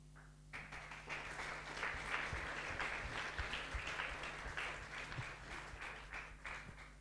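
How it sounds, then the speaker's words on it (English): Delegates at an international ophthalmology conference applaud in a large room, the clapping starting abruptly and holding steady for several seconds over a low electrical hum. "please applaud for yourself"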